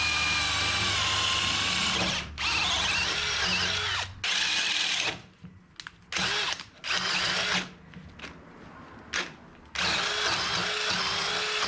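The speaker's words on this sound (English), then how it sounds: "Drilled that out to whatever that size is." A power drill bores out a rusted bolt hole on a truck tailgate, its steady whine running in long bursts broken by short pauses as the trigger is released and pressed again, close and loud.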